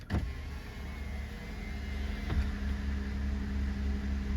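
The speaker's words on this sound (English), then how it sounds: "let's start it up and see how much engine noise we'll find" A 2009 Lexus ES350 with 248,000 miles idling after start-up: a steady, low, smooth engine hum heard from close by, with a brief click at the start and another faint knock midway.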